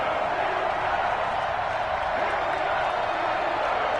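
Steady broadband roar of a stadium crowd in an EA Sports NFL video game before a New York Jets versus Pittsburgh Steelers matchup, continuous and dense throughout with no distinct peaks.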